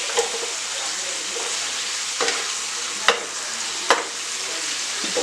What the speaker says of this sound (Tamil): அந்த மட்டனை வந்து இதில் போட்டுக்கலாம்.